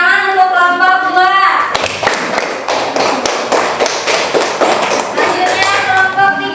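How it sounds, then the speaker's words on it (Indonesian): Classroom applause for a student group follows a spoken voice, a burst of close, fairly loud hand clapping from a small group of students that continues unevenly for several seconds. "Tepuk tangan untuk kelompok 2."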